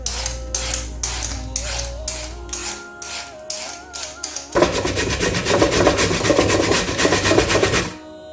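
Carrots are prepared for kheer: a series of short, evenly spaced scraping strokes as they are peeled, then a dense, continuous rasp as they are grated, ending abruptly. Nobody speaks.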